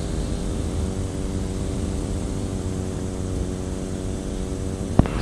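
A microlight aircraft engine drones steadily in flight, close and continuous, with a brief sharp click near the end.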